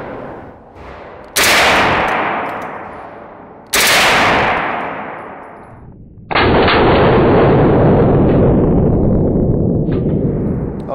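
Three loud, sharp gunshots ring out at a Las Vegas shooting range, each with a long decaying echo, the last one followed by a sustained roar. Nobody speaks during the shots.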